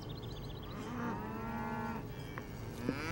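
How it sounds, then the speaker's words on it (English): Cartoon cows mooing in a countryside field, several drawn-out low moos overlapping, moderately close, with light birdsong early on and no talk. "Can we go see the cows?"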